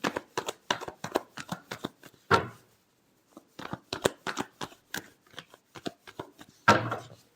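Tarot cards shuffled by hand in rapid papery riffles and flutters, two bursts of activity split by a brief pause, close and fairly soft with no talking.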